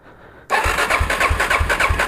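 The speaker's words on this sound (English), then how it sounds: "I should be able to press that starter button and this thing should fire" A cold Suzuki DRZ400 motorcycle engine catches on the first press of the starter, bursting from near silence into a loud, close, steady pulsing idle with no voices.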